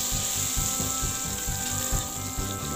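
Spice paste sizzles steadily in hot oil in a wok, a dense crackling fry with soft rhythmic stirring scrapes, close and continuous with no voices.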